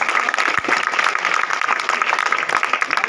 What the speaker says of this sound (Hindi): जोरदार ताली बजा के स्वागत करते भाई